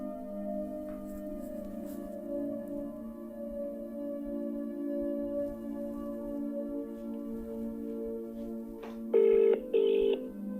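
Over a steady low hum, two short electronic ring tones sound near the end, the ringback of a phone call waiting to connect.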